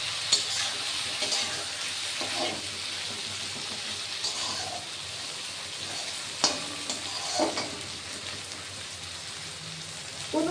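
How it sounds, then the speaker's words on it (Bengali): Tomatoes sizzle in a pan of hot oil while cooking a vegetable tarka, a soft continuous crackle broken by occasional spoon scrapes and stirring clicks, heard close and fairly quiet with no talking. "টমেটো দিয়ে একটু ভাজা হবে।"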